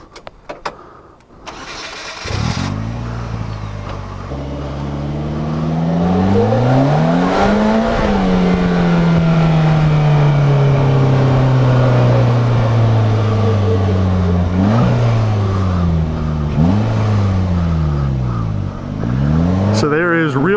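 A 2015 Polaris Slingshot SL cranks and fires up, its engine revving loudly with rising and falling pitch sweeps as it pulls away, the sound close and strong throughout; brief voices are heard at the start.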